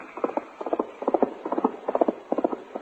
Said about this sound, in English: the Pony Riders urged their fleet little horses along the trail at top speed.